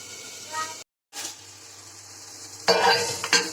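Tomatoes sautéing in oil for a chutney, a gentle sizzle broken by a brief cut, then louder scraping and clinking of a spoon against the pan near the end.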